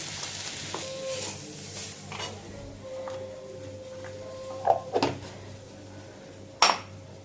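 Green chilli and Kashmiri chilli powder frying in a pan with ginger paste for potol kalia, a soft steady sizzle under occasional spoon clinks and a few sharp metallic taps, close and fairly quiet, no talk.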